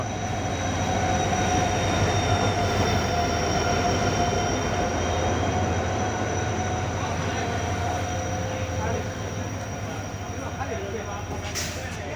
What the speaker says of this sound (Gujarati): ધીમે ધીમે આપણી ટ્રેન આવી રહી છે